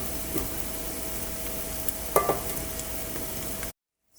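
Butter with white peppercorns, cinnamon sticks, cardamom and long cloves sizzling in a pan for an Afghani chicken gravy, a steady close frying hiss with a few brief crackles and pops, then abrupt silence at the end.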